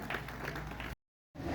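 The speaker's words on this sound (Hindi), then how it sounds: "एक बार जोरदार तालियां हो जाए" A crowd applauding at a one-day protest rally of Chhattisgarh cooperative society employees in Dhamtari, heard as a brief burst of dense clapping that cuts to silence and then resumes.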